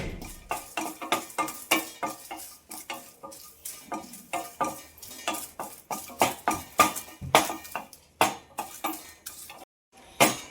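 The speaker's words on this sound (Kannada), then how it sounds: "ಇವಾಗ ಇದೇ ಬಾಣಲೆಗೆ ಒಂದು ನಾಲ್ಕು ಬ್ಯಾಡ್ಗೆ ಮೆಣಸಿನ್ಕಾಯಿ ಇಟ್ಕೊಂಡಿದ್ದೀನಿ ಅದನ್ನು ಸ್ವಲ್ಪ ಡ್ರೈ ರೋಸ್ಟ್ ಮಾಡ್ಕೊಂಬಿಡೋಣ" Four Byadgi red chillies dry roasted in a bare pan, a steady rhythm of scraping, rattling stirs and light crackles repeating every half second or so, close and fairly quiet with no voice.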